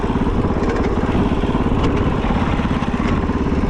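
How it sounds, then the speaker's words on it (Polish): A KOVE 450 Rally enduro motorcycle engine runs close by with a rough, uneven putter and clattering pulses, steady and loud throughout. "Dziwną ma pracę ten silnik."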